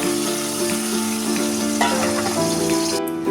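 Asafoetida and a ground paste of peanuts, poppy seeds and melon seeds sizzling in hot oil for Kashmiri aloo dum, a loud, dense, steady frying hiss close up that cuts off sharply at the end.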